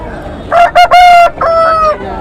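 A single loud rooster crow rings out close by at a country chicken market, rising and stretching over about a second and a half, with no other sounds around it.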